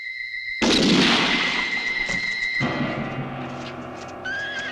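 Revolver gunfire in a western film: a sharp loud blast that rolls into a long, decaying echo, with steady tones running underneath.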